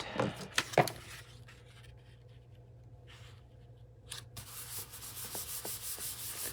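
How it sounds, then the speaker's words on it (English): A paper envelope flap cover is rubbed down by hand to make it stick, giving soft, dry, scratchy strokes close by in short bursts between quieter pauses. "Give it a good rub."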